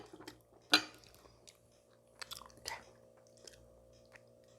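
Someone eats a home-cooked Korean meal up close, with soft wet chewing, squishes and a few sharper crunchy bites at irregular intervals in a quiet room, no speech.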